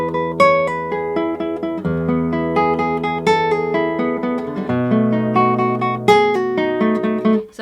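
Classical guitar arpeggio played with a rest stroke leaning too heavily on the first string, a steady, close and continuous flow of ringing plucked notes with uneven accents and no talking.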